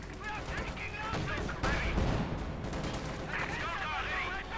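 Heavy .50 caliber machine gun bursts in the real-time strategy game Company of Heroes 2 during a chaotic 1v1 US versus Germany match, dense rattling fire mixed with other battle noise under a commentator's talk.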